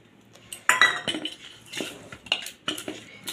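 Cauliflower pakora batter stirred in a bowl, likely made with rice flour or cornflour and a splash of water, giving a run of close, clinking scrapes of a spoon against the bowl in irregular bursts, with no voices.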